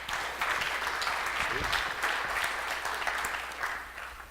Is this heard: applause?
yes